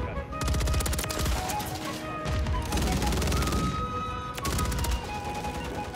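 Rapid automatic fire from an MTAR assault rifle in Call of Duty: Modern Warfare III, loud close bursts of sustained gunfire in several strings with short gaps between them.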